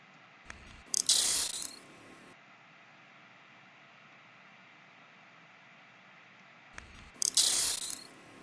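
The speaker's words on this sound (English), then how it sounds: "Again, the sound of the Chandrila StarLines Hypo." A Chandrila StarLines hypospray effect sounds twice: a faint click, then a bright hissing burst of about a second, repeated after a long quiet gap. Both bursts are close and clean, with no talk.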